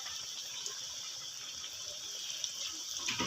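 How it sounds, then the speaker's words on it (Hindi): Chicken zinger pieces fry in hot oil in a large wok, giving a soft steady sizzle and hiss with small crackles, fairly quiet and without talk. "इधर ऑयल गर्म हो गया, अब हम इसको फ्राई कर लेंगे।"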